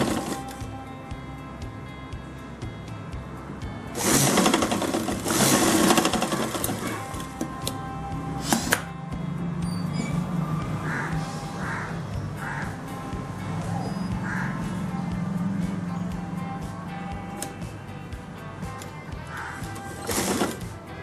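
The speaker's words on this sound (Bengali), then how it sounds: "এই যে ফ্রেন্ড আমি যে সেলাইটা করলাম" A sewing machine stitches a design in short steady runs, near and fairly loud, with pauses between bursts and faint room noise.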